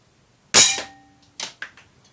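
Budget air rifle fired through a chronograph, a single sharp crack followed by a couple of smaller mechanical clicks, close and otherwise quiet.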